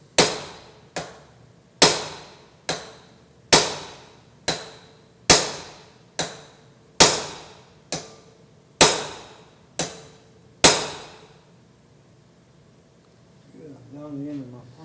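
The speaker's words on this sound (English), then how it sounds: "Gives it the first little tap, and then gets a rebound, and then whacks it good." Hammer blows drive a steel shaft of about three-quarters of an inch out of a pump, about a dozen sharp metallic strikes at a fairly even pace with ringing decays, then a short low murmur after they stop.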